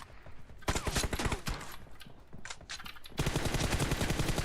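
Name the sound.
gunfire in the video game PUBG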